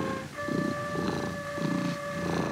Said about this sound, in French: Ça ronronne et ça griffe.